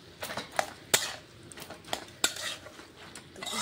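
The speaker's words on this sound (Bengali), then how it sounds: "বাঁধাকপিটাকে আরও কয়েকবার নাড়াচাড়া করে নিচ্ছি দেখুন" Cabbage being stirred in a cooking pan for a vegetarian dish, a metal spoon scraping and clinking against the pan in several sharp, irregular strikes with soft shuffling between, close and fairly quiet.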